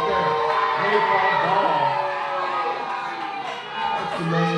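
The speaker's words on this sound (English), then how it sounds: "They're trying to start a let us go to the chant." A wrestling crowd at a live pro wrestling show rises into a sustained roar of shouting and cheering voices that holds steady and loud throughout, with a commentator talking over it.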